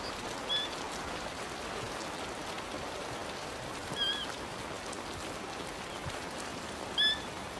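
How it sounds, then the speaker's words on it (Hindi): Steady rain falls on the savannah in a constant hiss of drops, with a few faint bird chirps rising briefly above it. "आसमान से पानी बरस रहा है और ये बहुत ठंडा है।"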